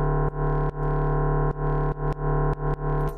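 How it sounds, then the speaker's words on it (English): Higher-pitched synth bass tone from Bitwig Polymer, a sustained buzzy harmonic note pumped by sidechain ducking into a steady rhythmic pulse of short dips, loud and alone with no talk. "Second one, I usually go for maybe a higher pitch tone"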